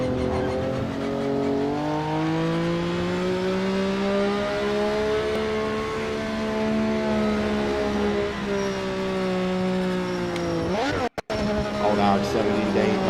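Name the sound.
Mazda RX-7 race car engine in video game Project Motor Racing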